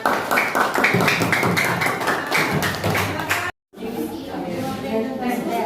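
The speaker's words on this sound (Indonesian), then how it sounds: "Ya, tepuk tangan." A class of students applauding, a burst of fairly loud rapid clapping for several seconds, then a short break followed by quieter room sound with voices.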